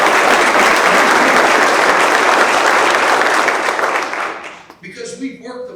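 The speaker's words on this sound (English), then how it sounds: "I want to give another round of applause to the legislators that are here today" Loud round of applause for legislators at a Radiance Technologies announcement, sustained crowd clapping for about four seconds before fading out, with a voice speaking as it dies down.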